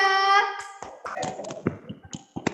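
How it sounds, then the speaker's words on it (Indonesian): Hands clap in a classroom during a micro-teaching lesson on reinforcement, giving a scattered run of sharp claps after a child's answer, preceded by a brief voice. "Tepuk tangan semuanya."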